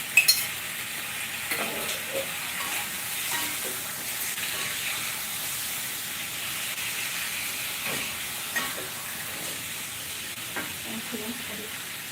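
Leftover cooked chicken reheating in a pan on a home stove, giving a soft continuous sizzle with occasional scrapes and stirs, fairly faint and steady with no voices.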